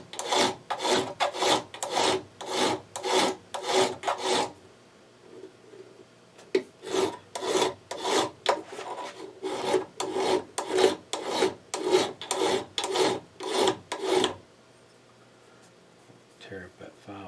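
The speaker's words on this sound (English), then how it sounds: "Tear up that file, filling it full of aluminum." A metal file rasps down an aluminum air compressor quick-release hose fitting in fast, rhythmic back-and-forth strokes, two long runs of steady scraping separated by a brief pause, close and clear.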